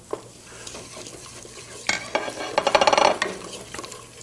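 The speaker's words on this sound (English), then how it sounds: "Along with our butter, we're going to add our cardamom, like so." Cardamom dropped into butter in a heavy pan, a soft stirring scrape that builds into a brief crackling sizzle, close and moderately loud, with no voices.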